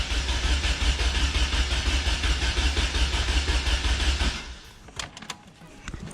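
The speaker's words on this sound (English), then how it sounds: "if I turn the key, it should just crank" A Honda K-series turbo engine cranking with the key, a steady loud rhythmic starter churn lasting about four seconds, then stopping abruptly, followed by a few faint clicks and knocks.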